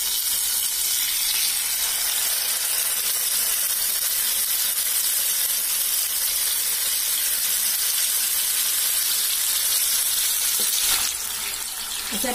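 Pieces of green chicken kabab coated in masala fry in a pan over medium heat, giving a steady loud sizzling hiss that holds throughout, with a brief clink near the end and no talking.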